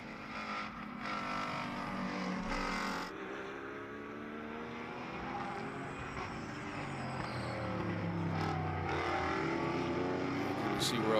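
GT4 race cars, a McLaren among them, roar past on the Sonoma circuit with loud sustained engine drone and shifting pitch sweeps as cars pass, continuous throughout under a busy track ambience.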